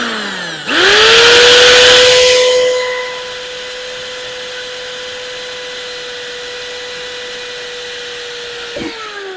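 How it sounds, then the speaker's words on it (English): A power drill bores holes into a wide-arch wing on a Ford Fiesta for self-tapping screws. It starts with a loud, harsh grinding bite for about two seconds, then a steady, high motor whine that cuts off near the end. "I'll just drill a couple of holes and put some self-tapper screws in"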